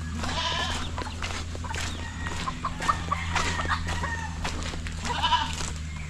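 Goat bleats mixed with clucking fowl in a busy farmyard, with steady background hum and repeated animal calls throughout.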